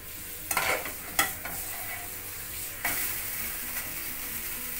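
Oats dosa cooking in a pan, a soft steady sizzle with a few scraping or stirring knocks, close and fairly quiet, with no talking.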